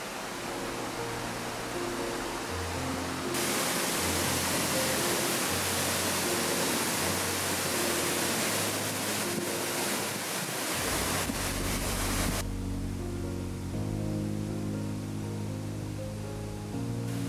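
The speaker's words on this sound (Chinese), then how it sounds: "此时水流正不断地从泄洪口中喷涌而出。" Water gushes from a spillway on a mountain stream at Daruoyan on the Nanxi River in Wenzhou, a loud, steady roar that swells sharply for several seconds before settling back to a broad rushing hiss.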